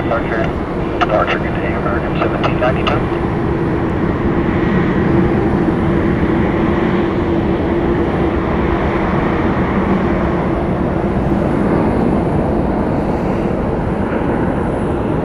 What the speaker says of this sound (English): It's another Dreamliner landing in on the north from Canada.